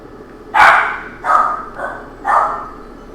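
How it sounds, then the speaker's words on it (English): A dog barks four times in fairly quick succession, sharp and fairly close, the third bark softer than the rest, over a faint steady background hum. "There goes my dog."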